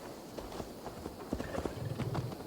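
Horse hooves in a video game, a brisk repeating clip-clop of a trotting horse, steady and close, with a faint low rumble underneath.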